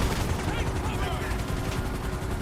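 Dense, continuous gunfire during a rooftop shootout in the video game GTA Online, loud rapid bursts running without a break for a couple of seconds, with a voice faintly mixed in.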